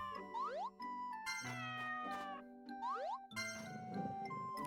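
A cat in the farming video game Story of Seasons: Grand Bazaar gives several short synthesized meows with rising pitch, mixed with bright chiming jingle tones from the game's music, fairly quiet and with no voice.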